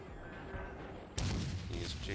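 A sudden loud salvo of ship guns in World of Warships, a heavy booming blast that cuts in midway over a quieter ambient hum and rumbles on afterward.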